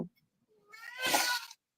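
A house cat gives one drawn-out meow close to the microphone, rising and then falling away, with a brief faint sound just before it and no talking.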